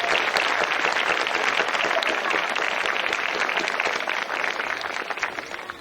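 A crowd at a Veterans Day celebration claps for veterans, dense sustained applause from many hands that carries on for several seconds and thins slightly toward the end.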